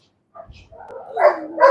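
Young German Shepherd during bite work training, giving short sharp barks and yips that rise in intensity, close and loud with no talking.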